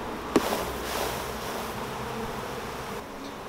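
Honey bees shaken off a frame onto the ground by a hive entrance during swarm control swarm in a continuous, fairly loud drone after a sharp thump at the start.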